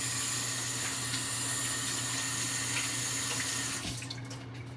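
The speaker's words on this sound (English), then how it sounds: "let me wash my hands so I can turn the camera off" Tap water runs into a sink while hands are washed in a home kitchen, a steady close hiss that stops abruptly near the end, with no voices.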